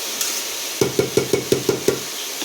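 A spoon knocks rhythmically against a pan, about seven quick taps in a row, while chopped tomatoes are stirred into an onion curry over a steady background hiss.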